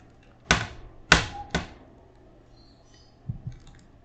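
Dirty computer keyboard keys clack in three sharp, close taps, followed after a pause by two softer clicks, in a quiet room with no talking.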